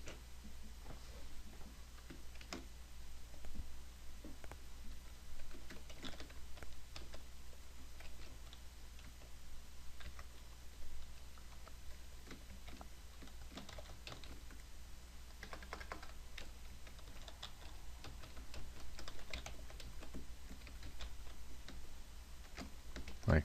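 Typing on a computer keyboard, quiet irregular key clicks in short bursts, close and faint, with no one talking.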